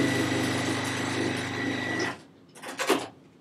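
A sewing machine runs a tight quarter-inch seam through silk pieces, a steady high mechanical whir for about two seconds that stops abruptly, followed by a few brief clicks and handling sounds.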